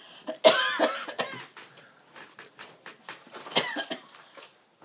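Several harsh coughs burst out close by, a loud cluster at the start and another fit later, with throat-clearing sounds between.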